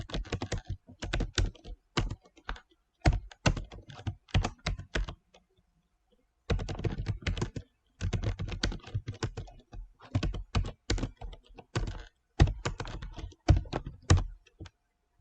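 Fingers type on a computer keyboard while filling in a CV in Microsoft Word, close and clear, with quick bursts of clicking keys broken by short pauses, one longer gap, and no talking.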